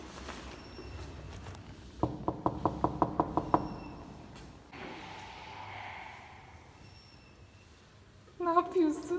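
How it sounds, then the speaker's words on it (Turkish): Knuckles rap on a door in a quick run of about eight even knocks, close and crisp. A hissing pause follows, then voices in a home. "kapıyı çalalım"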